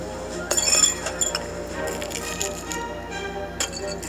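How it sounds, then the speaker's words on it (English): Glass breaking in the Cat Kaka video game: a sharp clinking shatter followed by scattered tinkling pieces and a few later clinks, with game sounds in the background. "I like the sound of glass breaking."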